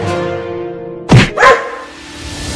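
A dog gives two sharp, loud barks in quick succession, close by, after a moment of quiet tonal background.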